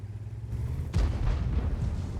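Tank cannon shell hitting a wall in the World of Tanks game: a single heavy, booming impact about a second in, followed by a rumbling decay over quiet engine hum.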